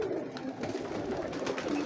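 Breeder pigeons coo softly and continuously at close range, a low throaty murmur from several birds in a loft.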